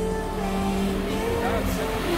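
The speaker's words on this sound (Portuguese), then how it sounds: "O motor grita, né?" A vehicle engine revving hard on a coastal expedition drive, a loud sustained droning roar with shifting pitch tones, heard up close and unbroken throughout.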